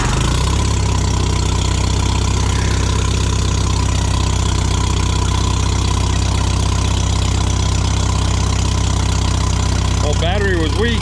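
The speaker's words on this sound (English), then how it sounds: "I'll let her idle here for a minute, warm up." An old Farmall M tractor engine runs at a steady, loud idle with a deep, even thumping, close by, and someone talks briefly near the end over the running engine.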